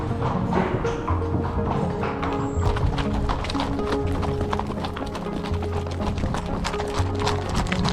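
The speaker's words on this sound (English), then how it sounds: "on our way back, we wanted to do some horseback riding." Horse hooves clip-clop steadily on the ground during a horseback ride in Iceland, a quick regular rhythm heard up close with a faint background of wind and movement.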